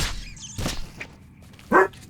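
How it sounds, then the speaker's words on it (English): A dog indoors gives a few sharp barks and yips, with a loud bark near the end, close by and no talking. "Dog just barked again."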